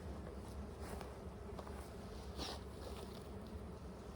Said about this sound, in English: the bees are attacking me